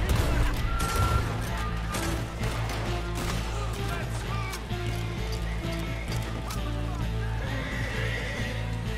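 A horse whinnies loudly over a continuous Red Dead Redemption 2 game soundtrack, with hoofbeats and scattered crashing and clattering effects in the background.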